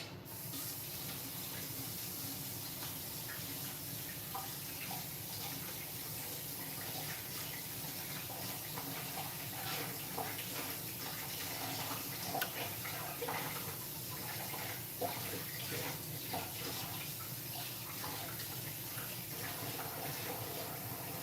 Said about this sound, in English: Had to wash the dough off my hands.